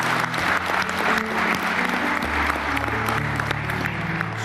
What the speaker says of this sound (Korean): 우리 격려의 박수 한번 부탁드릴까요?